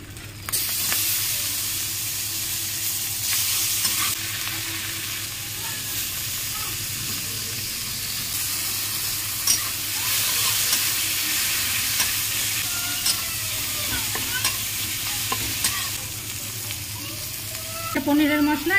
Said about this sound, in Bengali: মশলাটা একটু এবারে কষিয়ে নেব।